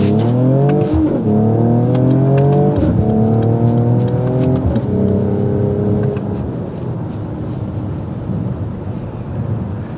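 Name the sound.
car exhaust note while accelerating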